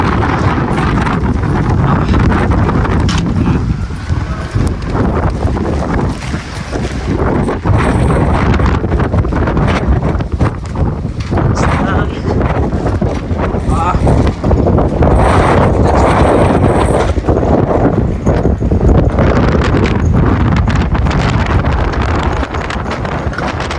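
Strong spring wind in snowy Greenland roars and buffets continuously against the microphone, a loud, steady rumble with gusty surges throughout.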